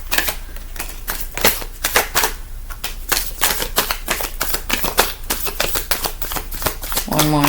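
Tarot cards are shuffled and riffled in quick, crisp rapid bursts close up, a dense run of slapping and fluttering card sounds followed by a card being drawn, with a voice briefly speaking alongside.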